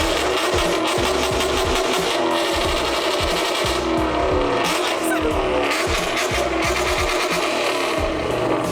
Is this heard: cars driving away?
yes